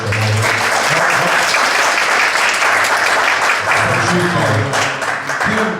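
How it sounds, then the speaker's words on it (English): Loud, sustained applause from an audience at a citizen forum held in a high school, many hands clapping densely for nearly six seconds, with voices and a few cheers mixed into the wash. "Hold your applause for these people."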